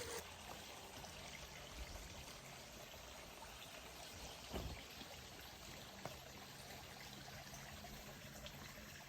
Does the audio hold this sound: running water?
yes